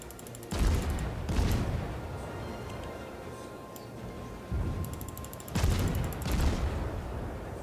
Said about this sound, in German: Ich schieße einfach mal mit drauf.